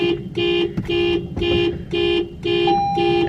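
A parked car beeps insistently, a series of evenly spaced electronic warning tones, each about a third of a second long, repeating close by without any talk.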